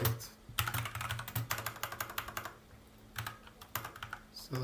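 An SQL prompt typed on a computer keyboard in bursts of quick, close keystrokes, broken by short pauses, over a faint steady hum.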